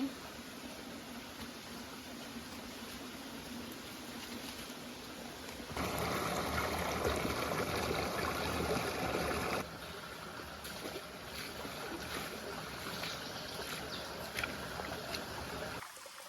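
Forest stream flowing in deep jungle, a steady broadband wash of running water that swells louder for a few seconds midway before settling back to a constant rush, with no talk.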